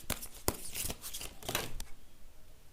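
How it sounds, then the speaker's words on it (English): A deck of tarot cards is shuffled by hand in a continuous run of crisp, papery riffles and flicks, close and fairly loud, ending after about two seconds with no talking. "I will shuffle some tarot cards for you."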